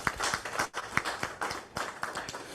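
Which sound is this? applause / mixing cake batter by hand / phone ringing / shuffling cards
applause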